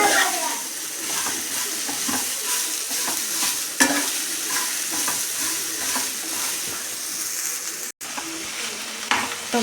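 Onion, mint and coriander leaves fry and are stirred in a pan for chicken masala, a constant close sizzle with repeated scraping stirs and soft clatters, no speech.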